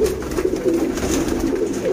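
Sialkoti pigeons, a 35-feather breed including a male, coo in a steady low murmur of overlapping throaty calls that runs close and continuous throughout.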